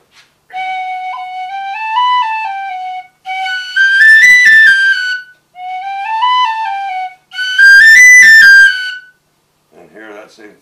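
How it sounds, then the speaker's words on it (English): A tin whistle plays short melodic phrases, four bright bursts separated by brief pauses, loud and close, the later phrases reaching higher and shriller. "Same thing on this whistle, you'll hear the difference."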